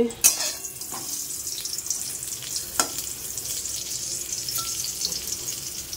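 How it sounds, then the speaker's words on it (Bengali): Eggplant fries in a pan with a continuous close sizzle, broken by a few sharp clinks of a utensil against the pan; no talking. "এখানে বেগুন ভাজা হচ্ছে"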